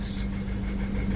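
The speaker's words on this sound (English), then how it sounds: "But this vehicle's not idling nicely. It's wobbling a lot." Renault Master van with a blocked DPF idling roughly, a low steady engine drone with an uneven, wobbling pulse, heard up close with no talk.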